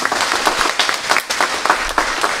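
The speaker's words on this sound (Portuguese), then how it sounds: "Uma salva de palmas para elas" Applause from a church congregation fills the room with dense, steady clapping that stays fairly loud throughout, with no voice rising above it.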